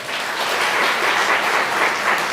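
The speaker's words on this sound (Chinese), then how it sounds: "我们再次拍手来欢迎他们" A church congregation at a Sunday service applauds to welcome six new members, giving a dense, steady wash of many hands clapping together at once, with no speech over it.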